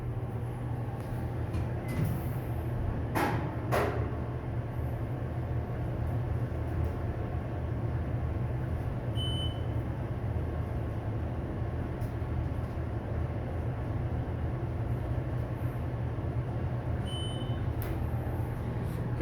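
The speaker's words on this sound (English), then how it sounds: "SkyTrain. Take one more ride on these." Steady low rumble and hum of an automated SkyTrain people mover riding between terminals at Phoenix Sky Harbor airport, with a few brief chimes and clunks over the continuous running noise.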